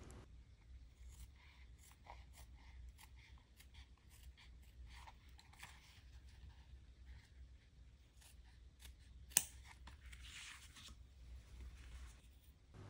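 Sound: scissors cutting thin leather

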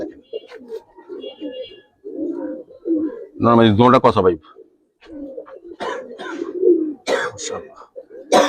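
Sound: Giribaz pigeons cooing

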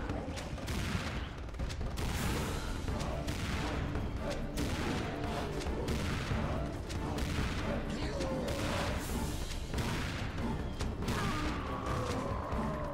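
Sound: shotgun fire in video game Serious Sam 2

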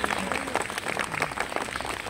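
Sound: audience applause at arts festival

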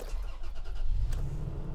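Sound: Toyota Tacoma truck engine starting with key

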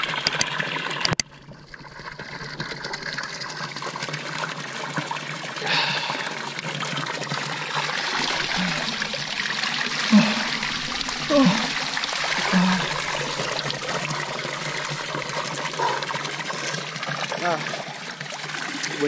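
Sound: pure mountain water flowing from Sierra Nevada

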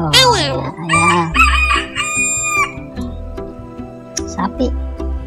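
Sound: chicken crowing and clucking, toy animal sound

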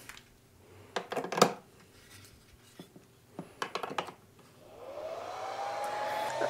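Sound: P10X2 battery charger cooling fan running

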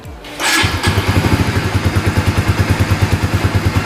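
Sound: GTR Supra 150 motorcycle engine running

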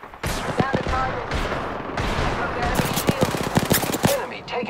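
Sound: gunfire in a video game

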